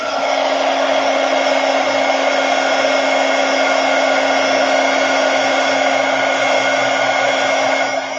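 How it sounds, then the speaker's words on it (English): A heat gun blows hot air at close range while acrylic paint is dried on a handbag, a loud, constant whooshing drone with a steady motor whine throughout. "Let's get this heat gun out again."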